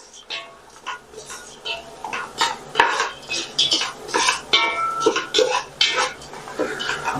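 Mandi spices being stirred in a cooking pot: a metal utensil scrapes and clinks against the pot in a steady run of short, close strokes.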